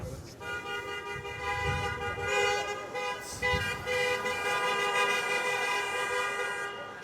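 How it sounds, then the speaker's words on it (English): Las Vegas street traffic rumbles under a long, sustained car horn blaring nearby, with other honks and vehicle noise mixed in. "Traffic, and cops everywhere."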